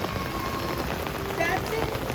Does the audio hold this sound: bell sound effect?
no